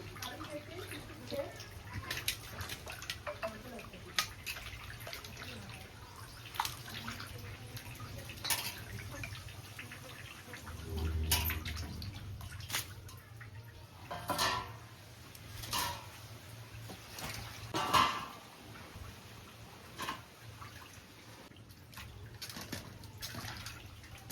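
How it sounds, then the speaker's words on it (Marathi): Raw chicken is washed in clean water before a Malvani curry, with intermittent splashing and trickling, a few louder sloshes and faint birdsong in the background. "मी आधी चिकन पहिल्यांदा धुवून घेते स्वच्छ पाण्यामध्ये"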